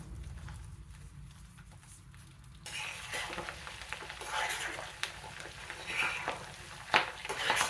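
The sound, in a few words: curry leaves and asafoetida sizzling in tempering oil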